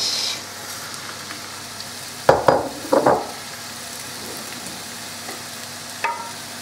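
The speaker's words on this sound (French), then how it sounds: "je rajoute ma viande et je la fais bien dorer." Beef cheek browning in a pan, a low background sizzle broken by a few sharp clattering stirs and scrapes midway, with a brief knock near the end.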